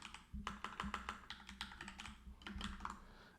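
Quick, uneven keystrokes clatter on a computer keyboard, close and fairly quiet, in short bursts of rapid typing.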